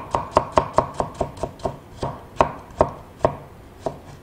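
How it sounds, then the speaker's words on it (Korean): A knife chops carrot into strips on a cutting board with about fourteen crisp, evenly spaced knocks, close and clear, with no voices. "당근 편 썰어서 길면 6cm 잘라주시고"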